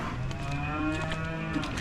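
Cattle at feeding time lowing in one long, steady, drawn-out moo, close and full, with nothing else over it.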